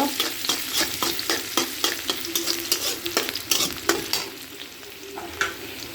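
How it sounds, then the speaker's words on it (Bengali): Chopped onion frying in hot oil for a potato fry, a continuous sizzle broken by rhythmic scraping stirs of a spatula against the pan, close and fairly loud, no voices. "পেঁয়াজটা ভালো করে একটু ভেজে নেব।"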